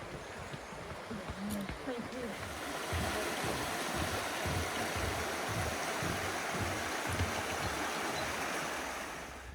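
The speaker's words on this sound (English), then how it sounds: "crossing over the river down there that I can hear" A river flows below a hiking trail on the Edale Skyline, Peak District: water rushes steadily in a continuous broad wash, growing slightly louder after the first few seconds, with low rumbling underneath.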